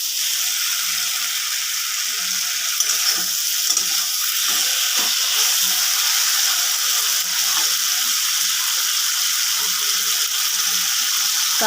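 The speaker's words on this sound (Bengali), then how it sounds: "কেটে রাখা টমেটোগুলো দিয়ে আমি ভালোভাবে কষিয়ে নেব, যাতে টমেটোগুলো সেদ্ধ হয়ে যায়।" Tomatoes fry with potatoes and ridge gourd in a pan, a continuous close hiss and sizzle with occasional faint clinks and scrapes, no voices.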